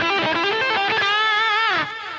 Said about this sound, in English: which is a real cheap pentatonic lick